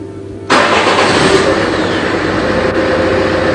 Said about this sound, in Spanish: Arrancaremos el motor